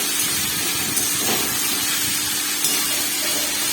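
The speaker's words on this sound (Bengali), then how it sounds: "তো দেখো আমি সুন্দর করে এটাকে একটু হালকা করে ভেজে নিচ্ছি" Chopped capsicum and carrot fry in a pan with salt and turmeric, giving a steady close sizzling hiss with a couple of faint clicks and no talking.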